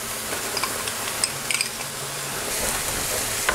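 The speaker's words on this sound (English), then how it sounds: "we're going to tip our lentils into the pan and squash in the tomato" Lentils and squashed tomato cooking in a frying pan for a chicken tikka spinach salad, with a steady soft sizzle and a few light clinks and scrapes of a utensil against the pan.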